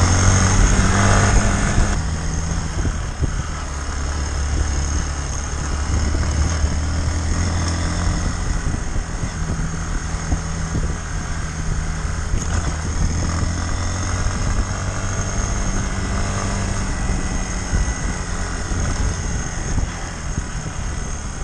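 Hero Xpulse 200 motorcycle engine on a long-distance road ride from Zonguldak to Safranbolu, a steady, loud, close droning hum with wind rush that holds unbroken for the whole stretch, with no talking.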